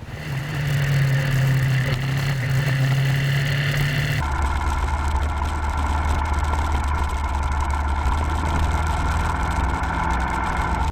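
A motorbike engine on a tour ride through the Vietnam countryside near the My Son temples, a loud steady drone whose pitch drops and changes abruptly partway through as the bike shifts gear, continuous and close.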